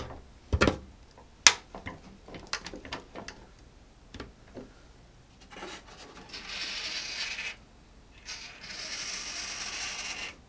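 A servo on an OMP Hobby Bighorn 49-inch RC plane drives the elevator and rudder control surfaces: scattered ticks and clicks, then two longer whirring sweeps, close and fairly quiet with no talk.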